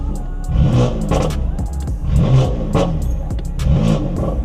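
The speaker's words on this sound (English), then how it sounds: "So let's do some revs, see how that sounds." A BMW M4 with an aftermarket downpipe is revved hard three times close by, each throttle blip rising to a loud roar and falling back to idle in a regular rhythm.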